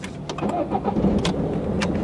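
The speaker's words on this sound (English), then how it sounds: "Start the engine, foot on brake pedal." Rental car engine starting during a trip in Iceland, with a short crank, clicks and a catch into idle heard close inside the cabin.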